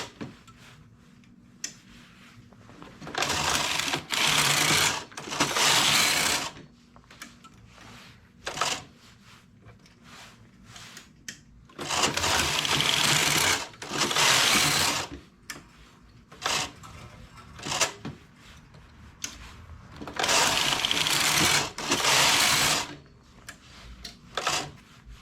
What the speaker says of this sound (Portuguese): a máquina não consegue vencer essas laçadas que dá por cima e acaba falhando o ponto